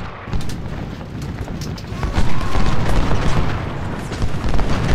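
Heavy booming battle din from a Civil War video game at Antietam, with continuous rumbling cannon and gunfire blasts rising and falling across the whole stretch, loud and dense.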